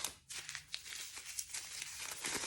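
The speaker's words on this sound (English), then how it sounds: "Now I'm going to take one of my pieces and crumple it all up." A torn piece of paper is crumpled up by hand for paper art, close and quiet crinkling in uneven bursts of sharp crackles.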